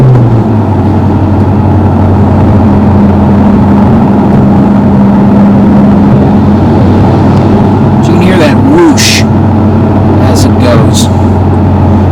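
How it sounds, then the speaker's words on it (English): A Mitsubishi Evo engine drones loudly and steadily, with a throaty stock exhaust and aftermarket intake roar held under full throttle, the exhaust louder than the intake, plus brief higher noises near the end. "The sound of the stock exhaust is still louder than the intake."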